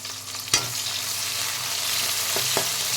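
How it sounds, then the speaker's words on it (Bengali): Chopped onions sizzle steadily in hot oil for an idli-sambar, a continuous close crackling hiss broken by a few sharp stirring scrapes near the start and end. "পেঁয়াজগুলো ঢেলে দিয়েছি, ভালো করে ভেজে নেব।"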